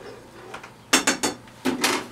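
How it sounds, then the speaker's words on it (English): A utensil scraping and knocking against a pan while mac and cheese is stirred, a few quick, close clatters in two short bursts over a quiet background. "let me stir my mac and cheese real quick"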